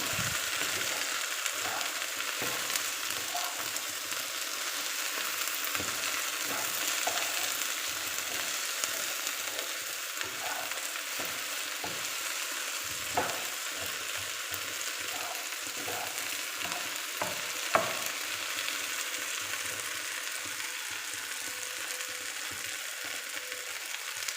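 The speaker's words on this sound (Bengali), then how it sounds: "এখন ভেন্ডিগুলো মশলার সাথে মিশিয়ে নিচ্ছে" Okra being stirred with spices in a frying pan, a steady sizzle of frying under repeated scraping and clicking of a spoon against the pan, close and continuous with no talk.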